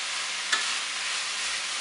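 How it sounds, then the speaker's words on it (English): Artichokes with onions and pancetta stirred in a pan over heat, giving a soft, steady sizzle with a single light scrape or clink of the utensil early on, close and fairly quiet. "So I stir for a few minutes"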